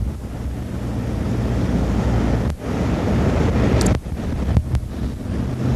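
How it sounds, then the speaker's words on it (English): Roaring surf and gusting wind batter a winter storm shoreline, a dense continuous wash of crashing waves with heavy wind buffeting the microphone and a few sharp dropouts. "This is how you get stuck in a storm."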